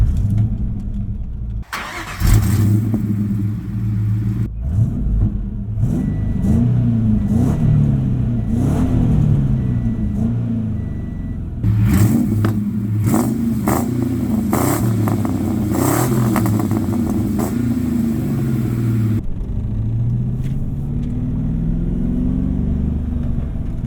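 A 1996 Ford Mustang GT SN95 with a V8 and manual gearbox drives on the road, its engine revving up through gears in loud rising sweeps with brief dips at shifts, heard from inside the car with no talk.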